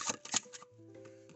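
Tarot cards shuffled and drawn by hand, giving a few quick, soft papery riffling bursts in the first half second before fading into quiet with faint steady background tones.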